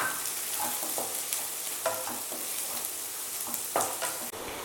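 Steady sizzling of onions, chilli and curry leaves sautéing in a pan, with occasional scraping and stirring clatter from a utensil, close by and without talk.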